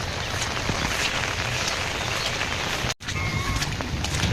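Steady rain falls outdoors during a stormy day, a dense, even hiss that holds for about three seconds, cuts out briefly, then resumes at the same level.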